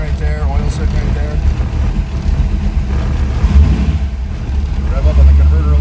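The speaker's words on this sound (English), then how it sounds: "Rev up on the converter a little bit." A 493 cubic inch car engine idles with a steady low rumble, then is revved against the torque converter in reverse; the sound is continuous and close, with a deeper surge near the end.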